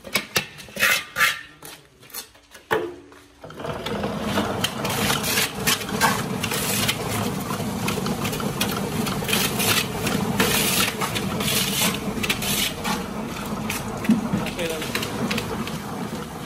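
Lime plaster for Kerala surki house plastering being mixed, a steady dense scraping and churning rumble that starts after a few seconds of sparse knocks and carries on without a break, close up.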